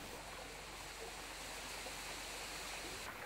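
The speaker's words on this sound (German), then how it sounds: "Etwas stärker strömt dieser kleine Bergbach." A small mountain stream in southern Thailand rushes steadily, a continuous broad hiss of flowing water with no voices.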